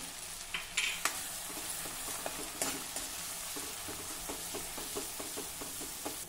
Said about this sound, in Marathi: अगदी मंद आचेवर आपल्याला छान तेल सुटेपर्यंत हे वाटण परतून घ्यायचं आहे